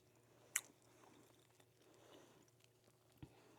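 Someone chews a slice of home-made turkey cold meat, soft quiet squishy mouth sounds close by with a sharp bite click near the start and another faint one later, otherwise hushed.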